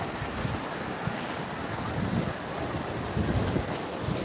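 Sea waves wash onto a beach in the morning, a continuous loud roar of surf with strong wind buffeting the microphone and no voices.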